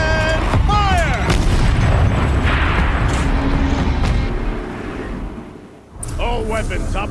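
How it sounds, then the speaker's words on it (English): A turret in Horizon Zero Dawn fires heavy booming blasts amid loud machine noise and game effects, with a voice speaking over it; the din dips briefly before resuming. "Rotate turret! And fire!"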